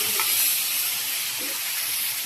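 Fish fry in a pan with a steady, loud, hissing sizzle that fills the whole stretch without pause or talk.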